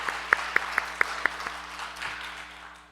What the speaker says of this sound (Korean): 우리 찬양대를 위해서 박수 한번 다시 해볼까요?